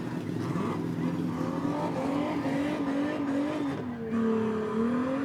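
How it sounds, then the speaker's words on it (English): A street stock race car at a speedway revs hard and spins its tires in celebratory burnouts, the engine roaring loud and continuous with rising and falling pitch and tire squeal throughout. "he's actually going to do some celebratory burnouts"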